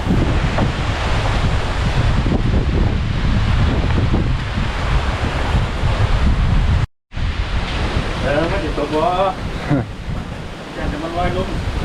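Strong wind buffets the microphone in a loud, continuous roar, with a brief dropout partway through and a voice speaking near the end.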